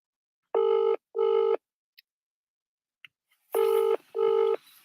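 A phone call to a patient rings out unanswered: two pairs of loud electronic ring bursts with a silent gap between them and faint clicks in the pause.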